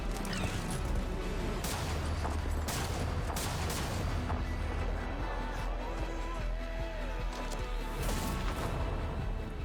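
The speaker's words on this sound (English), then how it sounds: "Not bad shooting, kiddo." Dense bursts of gunfire and crashing impacts fill a video game trailer scene, rapid shots and booms running continuously under a loud, busy mix.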